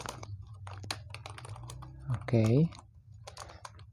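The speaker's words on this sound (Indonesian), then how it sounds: "kalau tombol enter pada keyboard kita tekan" Keys on a computer keyboard tapped while someone talks quietly over them, ending in a single firmer keypress near the middle, all close by and fairly soft.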